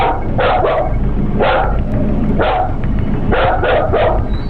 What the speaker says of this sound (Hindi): जिसको देख के ये भौंक भी रहा है भाई।